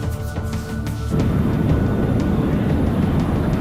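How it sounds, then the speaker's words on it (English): British Airways jet airliner climbing over mountains, a steady broadband engine roar that thickens and grows louder after the first second, then holds constant with no talk. "Captain Moody begins climbing, putting plenty of room between his plane and the mountains below."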